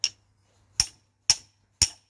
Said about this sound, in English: This is where a hammer is required.